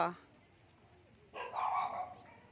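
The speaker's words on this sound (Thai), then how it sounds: "สัตว์น้อยเห่าสัตว์ใหญ่แล้วแบบนี้" A small dog barks at a buffalo, with a sharp bark at the start and a louder yipping burst after a pause, close and fairly clear.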